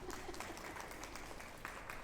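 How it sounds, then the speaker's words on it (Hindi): An audience claps for a teacher at a school session, dense steady applause at a moderate distance through the whole short moment, with voices mixed in. "चोपड़ा मैम के लिए फिर से तालियां।"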